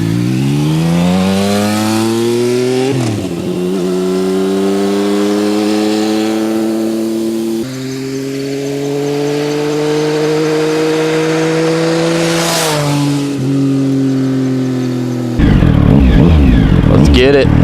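A Triumph Sprint ST motorcycle with a triple exhaust, its engine revving loudly nearby in long sustained pulls that rise and dip several times, ending in a rough, harsher burst.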